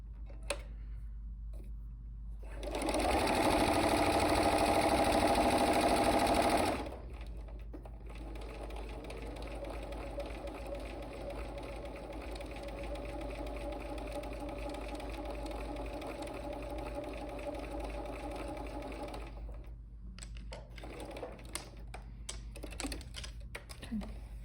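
A sewing machine stitches improv basket quilt blocks in one loud, steady whirring run of a few seconds, then quieter ongoing mechanical hum and handling noises follow.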